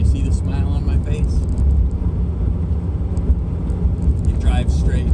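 A 1970s Datsun 240Z driving, its engine and road noise a steady loud drone from inside the car, with someone talking over it.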